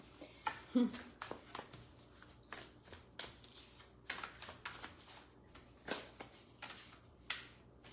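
Oracle cards being handled and shuffled, with quick papery riffles and soft slaps repeating in irregular bursts close by, while people talk quietly over them.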